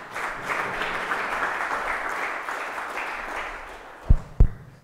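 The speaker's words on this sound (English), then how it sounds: "You are allowed to applause." Audience at a SwiftConf 2015 software conference talk applauds, a steady wash of clapping for about four seconds, followed by two sharp, loud thumps near the end.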